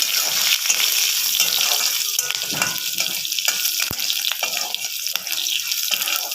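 Garlic with black, red and green chillies sizzles and crackles in hot oil in a wok, a steady close frying hiss with occasional stirring scrapes and clinks.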